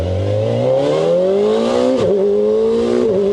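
A warmed-up Kawasaki ZX-4R motorcycle engine revved lightly on an open road: a close, loud engine note climbing steadily in pitch, dipping briefly as the revs shift, then rising again, with no talking.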